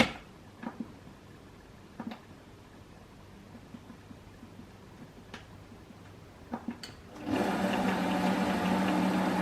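A Magimix food processor on its bread setting mixes focaccia dough: a few scattered clicks and knocks, then the motor starts with a loud, steady whirring drone that runs to the end.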